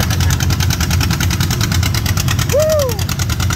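An antique John Deere Model A tractor at a tractor show runs with a loud, steady, rhythmic engine chug close by, and a short whooping vocal cry rises over it near the end.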